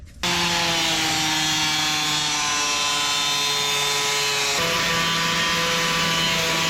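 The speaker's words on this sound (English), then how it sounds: "But now I want to grind off the adhesive down here" An angle grinder grinds seam sealer adhesive off the body of a Nissan Gloria, a loud sustained high whine starting abruptly and running continuously with a slight pitch drop partway through, no talk.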